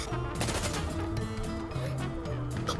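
Heavy .50 BMG rifle fire in the Insurgency: Sandstorm video game, loud and dense throughout, with repeated booming shots layered over game music and battle noise.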